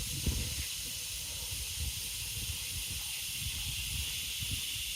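Cicadas at the KOA campground in New Bern make a dense, steady high-pitched buzzing drone that fills the air continuously, with faint low rumbles underneath and no voices.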